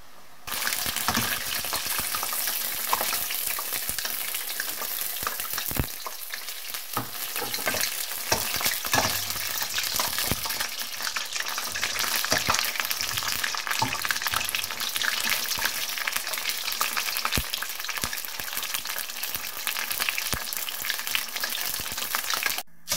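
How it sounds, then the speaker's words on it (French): Fish frying in very hot oil, a steady dense sizzle and crackle that runs loud and continuous throughout with no voices. "Ensuite, je mets le poisson à cuire dans une huile bien chaude."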